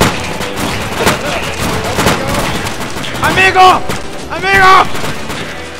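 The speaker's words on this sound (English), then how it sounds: "They are shooting their bullets at us, amigo!" Bandits fire on players in Arma 2, with sharp gunshots and booming reports scattered through the scene while someone shouts over the shooting.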